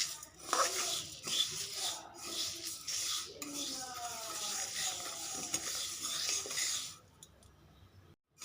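Mung dal with two bay leaves is dry-roasted in a pan while a spatula scrapes and stirs it in quick, rustling strokes, quiet and close, fading to near silence toward the end.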